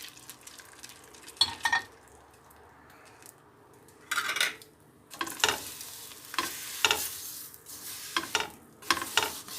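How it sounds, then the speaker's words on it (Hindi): Vermicelli noodles browning in a pan with a cardamom tempering, stirred with a spoon, giving soft sizzling under intermittent scraping and clinking bursts, fairly close. "इन्हें जो इलायची का तड़का लगाया है उसमें ये डालेंगे और इन्हें थोड़ा सा ब्राउन करेंगे"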